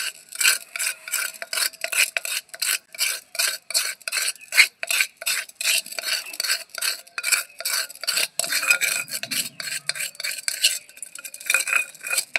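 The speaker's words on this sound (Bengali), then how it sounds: "দেখুন ভালো করে মাটির হাঁড়িতে লাগিয়ে নিচ্ছি গায়ে।" Yogurt is smeared around the inside of a clay pot with a spoon, making a continuous run of quick, evenly spaced scraping strokes, close and fairly loud, with no voices.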